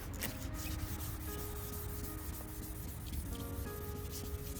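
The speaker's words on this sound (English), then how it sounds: "So now I'm gonna finish with the 600. We're gonna wet sand." Steady, even rubbing of wet 600-grit sandpaper across a plastic headlight lens on a 2008 Hyundai, a continuous soft scraping hiss with no pauses or voices.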